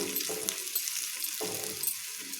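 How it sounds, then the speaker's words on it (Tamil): Onions with a pinch of asafoetida sautéing in a pan for fish curry, giving a steady soft sizzle with a few faint scraping stirs, close and fairly quiet, no voices. "இதையும் சேர்த்து நல்லா வதக்கிக்கலாம்"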